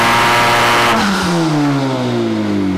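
Honda Civic Type R with a tuned turbocharged engine revs hard on a dyno, a loud close roar that peaks and then falls away as the engine winds down.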